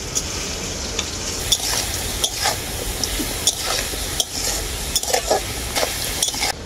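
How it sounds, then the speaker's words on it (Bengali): Long-cut potatoes frying in a pan with salt, a loud continuous sizzle broken by repeated stirring scrapes and light clatter. "আলুটাকে খুব ভালো করে ভেজে নেব"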